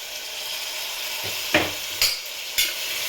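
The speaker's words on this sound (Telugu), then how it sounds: "ఇలా ఆనియన్స్ అయితే ఫ్రై అయిపోతున్నాయి" Onions fry in a pan with a constant hissing sizzle, broken by three sharp scraping stirs of a spoon toward the end.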